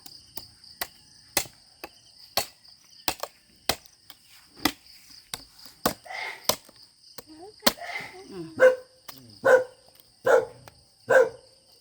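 Several sharp barks from dogs on a farm ring out one after another, fairly close, over a steady background of insect chirring, with the barks growing louder and more clustered toward the end.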